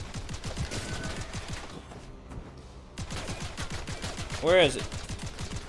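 Rapid bursts of gunfire from shooting a monster in the horror video game Seraph ring out steadily, loud and close, with a brief pause midway while someone talks over the shots.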